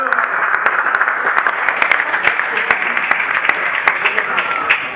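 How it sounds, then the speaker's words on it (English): An audience at a panel event claps for a guest, a broad wash of applause with sharp individual claps standing out near the listener, running steadily for five seconds with a voice faintly mixed in. "everyone give a big round of applause to Phil Reed Jr."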